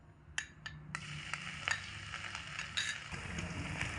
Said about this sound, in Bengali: আদা দিয়ে একটু ভাজা হয়ে গেলে এবার এর মধ্যে একে একে সমস্ত মশলাগুলো দিয়ে দেব।